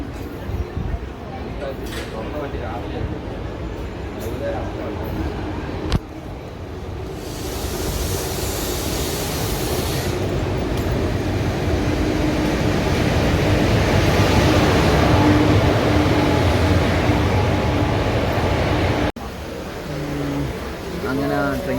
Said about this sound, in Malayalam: ട്രെയിൻ വരുന്നു വന്നു വന്നു വന്നുകൊണ്ടിരിക്കുന്നു